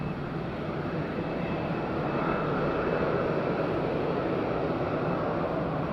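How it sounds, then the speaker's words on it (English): EasyJet jet airliner pushing back at Madeira airport, a steady broadband engine roar held at a constant moderate level throughout, with no voices. "EasyJet pushing back."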